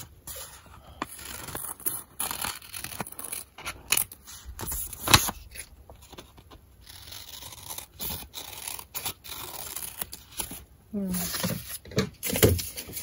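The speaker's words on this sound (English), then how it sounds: "So now you're going to cut it." Scissors cut through a paper face mask template in a series of close, crisp snips and crinkles at an irregular pace, with a person talking intermittently over them.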